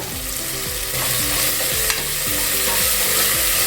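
Tomatoes sautéing in a pan with turmeric and salt for a spicy mutton bone soup, giving a steady close sizzle and frying hiss with repeated stirring scrapes throughout and no voices.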